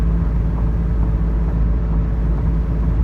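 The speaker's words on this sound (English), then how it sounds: "It's a 6-cylinder. It sounds like a 4-cylinder right now." A six-cylinder car engine idles loudly and steadily up close while running rough, a low uneven rumble with a rough, throbbing tone.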